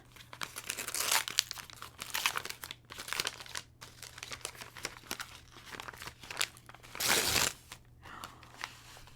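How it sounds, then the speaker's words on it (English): A small mailed present being unwrapped, wrapping paper crinkling in bursts with a sharper rip near the end, close to the listener and with no one talking. "Oh, look at, I got a little present. I got a present to unwrap."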